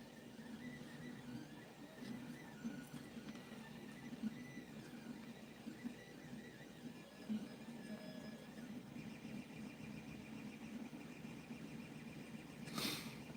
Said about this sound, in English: a 3D printer is kind of amusing because it sounds kind of like a video game